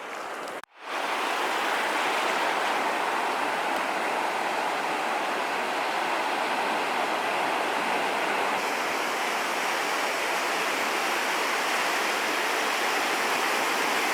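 Steady roar of ocean surf breaking on a sandy beach at low tide in New River Beach Provincial Park, New Brunswick, loud and continuous after a brief dip at the start, with no talking.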